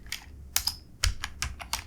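Code is typed on a computer keyboard in a close, brisk run of separate key clicks with short uneven gaps between them, and no voices.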